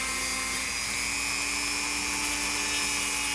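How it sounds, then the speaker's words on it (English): A steady, high whine from an improvised lathe spinning while a fishing popper is shaped, continuous and close with a fixed pitch and no pauses. "it is operating very much like a lathe"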